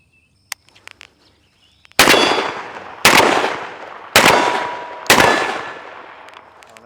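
Four loud, close shots from a Mossberg 990 AfterShock 12 gauge firearm, about one second apart, each a sharp blast with a decaying echo, after a few faint clicks and handling sounds.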